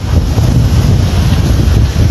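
Strong wind buffets the microphone outdoors during heavy rain near an overflowing creek in Arambaré, a loud, continuous low rumble with gusty swells and no speech.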